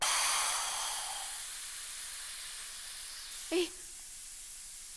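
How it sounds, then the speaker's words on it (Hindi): A pressure cooker with rice inside lets out a loud steam hiss that rises at once and slowly fades. A brief vocal sound follows near the end. "कुकर की सीटी बज गई"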